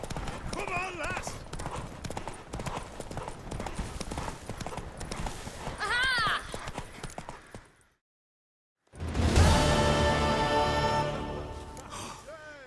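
Galloping horse hooves in the video game The Witcher 3 pound in a fast, steady clip-clop, loud and close, under excited shouting and game music, then cut out briefly before resuming.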